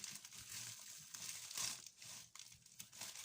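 Package being opened during an unboxing, with soft crinkling and rustling of wrapping and a few brief tearing sounds, faint and close.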